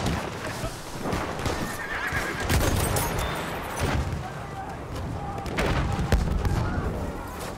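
In the World War I shooter Battlefield 1, a cavalry horse whinnies loudly as hooves clop across the ground, with gunfire cracking in the background.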